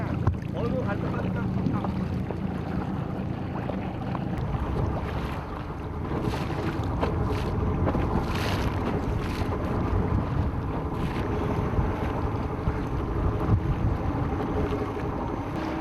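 An Air Force rescue team of four moves out over sea waves in a small boat, with a steady rumbling wash of water and strong wind buffeting the microphone throughout.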